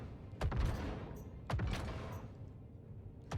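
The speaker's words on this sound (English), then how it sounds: "These massive cannons on the Perseus are a combination of just really hard to use, but also buggy sometimes." Heavy ship cannons from an RSI Perseus in Star Citizen fire at a 400i, two booming volleys about a second apart, each a sharp crack trailing into a long low rumble.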